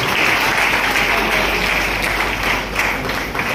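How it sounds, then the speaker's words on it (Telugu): A crowd applauds loudly and continuously, dense clapping from many hands filling the whole stretch without a break. "వారి టీం కూడా మిగతా వాళ్ళకు కూడా గట్టిగా చప్పట్లు కొట్టారు ఒకసారి."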